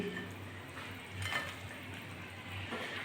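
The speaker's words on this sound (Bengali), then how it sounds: "এই যে ঝোলটা টকবক করে ফুটছে" Tilapia curry with eggplant, potato and bori simmers in a pan, giving a faint, steady bubbling and soft sizzle with a few gentle stirring clicks, heard alone without voices.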